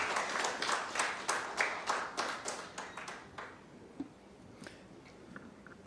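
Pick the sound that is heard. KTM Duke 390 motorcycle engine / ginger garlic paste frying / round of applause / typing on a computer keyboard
round of applause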